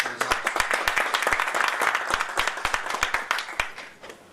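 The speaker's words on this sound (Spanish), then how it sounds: "Un aplauso para ellos, por favor." Audience applause at a conference presentation, with sharp, dense clapping throughout, fairly close and steady, tapering slightly toward the end.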